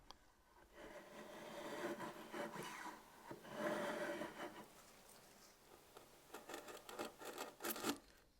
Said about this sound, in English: here I'm undercutting the sides before I chisel them off